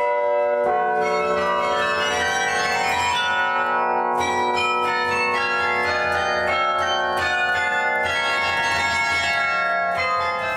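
Kaunas carillon bells ringing a series of clear, resonant struck notes in an unhurried melodic run, each tone ringing on and overlapping the next, with no voices.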